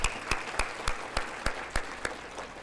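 Clapping for the organizers of a regional Aboriginal recognition awards event comes as sharp, evenly spaced claps about three per second, sounding like only a few hands, fairly close and distinct.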